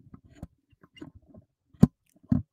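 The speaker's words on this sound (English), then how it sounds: "Stop chewing so freaking loud, bro." Close-miked chewing with a few soft mouth clicks and two sharper, louder crunching bites near the end.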